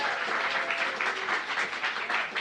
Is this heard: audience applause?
yes